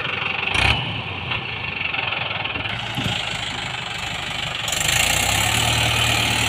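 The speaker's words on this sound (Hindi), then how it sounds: "ये देखिए आप यहाँ पर एक बार और फिर ट्रैक्टर को निकालने की कोशिश की जा रही है।" A Mahindra 575 DI XP tractor engine runs hard and close while pulling a trailer loaded with wood, a steady knocking diesel rumble that rises in intensity toward the end.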